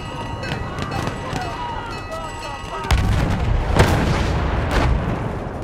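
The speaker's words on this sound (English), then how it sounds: "Wait for the enemy artillery barrage to stop firing." An enemy artillery barrage in the World War I video game Battlefield 1 sounds as a run of booms and gunfire, with a sharp heavy impact midway followed by louder rumbling blasts, while voices call out in the mix.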